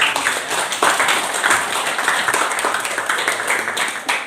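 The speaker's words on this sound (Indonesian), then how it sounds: "tepuk tangan untuk semua" Applause from a group of participants at a village education session in Indonesia, dense and continuous clapping filling the whole stretch.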